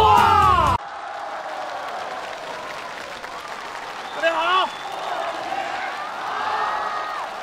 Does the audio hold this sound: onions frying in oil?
no